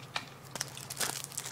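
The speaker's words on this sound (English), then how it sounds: "Little plastic bags like that crinkle really loud on camera" Small plastic bag crinkling loudly as it is opened during an unboxing, with several sharp crackling bursts close to the microphone.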